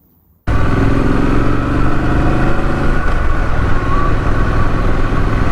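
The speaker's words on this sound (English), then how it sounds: "we're going to take the bike for a ride now on the little country lanes" A Triumph Street Scrambler motorcycle starts up abruptly after brief silence and rumbles loud and close on country lanes, a steady throaty engine note continuing throughout.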